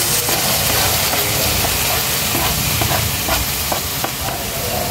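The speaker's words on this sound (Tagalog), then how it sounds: "Ilagay ko na ang kamatis. Maraming kamatis." Tomatoes tumble into eggs already frying in a pan, setting off a loud, steady sizzle and hiss that runs without a break, with light stirring scrapes and no talking.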